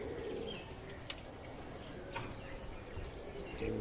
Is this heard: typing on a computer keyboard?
no